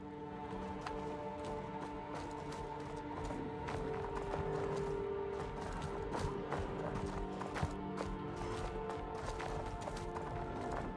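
Cow hooves clop in a steady rhythm on the ground in the video game Star Citizen, moderately loud over a constant humming mechanical drone, with no talking.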